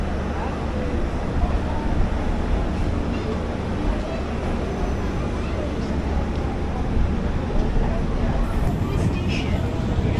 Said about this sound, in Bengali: এটা হচ্ছে হামসাফার ট্রেনটা।